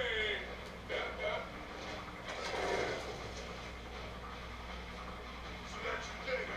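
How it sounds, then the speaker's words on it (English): A train pulls in within the Deadpool video game, giving off a continuous mechanical rattle and clanking at moderate distance, mixed with game voices. "Here comes your train!"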